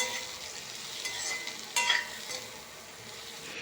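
Potatoes frying in hot oil in a home kitchen, a steady bright sizzle with scraping stir strokes throughout and a brief louder crackling burst partway through; no voices.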